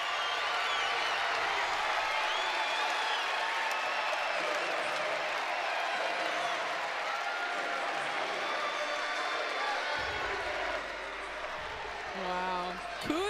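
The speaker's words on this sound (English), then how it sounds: "The crowd has come to life in Brookings" Crowd noise and cheering fill the arena at a college volleyball match in Brookings, a loud sustained roar under continuous play-by-play talk, dipping slightly near the end.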